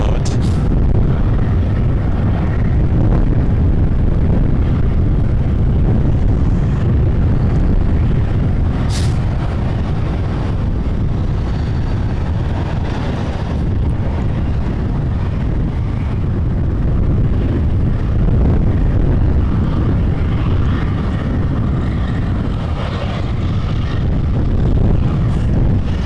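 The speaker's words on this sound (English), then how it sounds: "It's very gusty." Strong gusty wind buffeting a microphone outdoors at Toronto Pearson Airport, a steady loud low rumble with surging gusts throughout, with faint distant vehicle or aircraft noise beneath.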